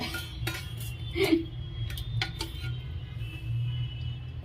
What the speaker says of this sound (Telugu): అందమైన బాండి పెట్టేసుకోవాలి